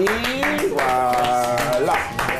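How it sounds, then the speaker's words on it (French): A studio audience on the French-language RTI 2 talk show Madame Monsieur Bonsoir claps for guest Bob Denard, a steady patter of hands running under a speaking voice and musical tones for the whole stretch. "Est-ce qu'on peut l'applaudir, s'il vous plaît?"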